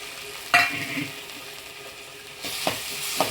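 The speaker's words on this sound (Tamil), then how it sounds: "வெங்காயம் நல்லா வதங்கிடுச்சு இப்போ நம்ம வந்து தக்காளி சேர்த்துக்கலாம்" Tomatoes tipped into onions that have been sautéed soft for onion sambar sizzle in a hot pan, with a sharp burst of frying at the start, steady crackle, and a couple of brief stirring scrapes near the end.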